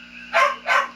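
A dog gives two short, loud barks or yelps during a nail trim, evenly spaced over a steady low hum, with no one talking.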